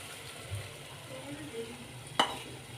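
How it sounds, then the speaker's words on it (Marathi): Boiled green peas being stirred into sizzling ground masala paste in a pan, a soft steady fry with light scraping and one sharp clack of the spoon near the end, close and quiet, no voices. "व्यवस्थित ढवळून घ्यायचं"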